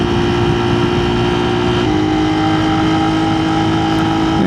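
A Yamaha TW200 motorcycle with Tusk equipment, cornering on a dirt trail, its engine droning loud and steady close up with a slight pitch change partway through.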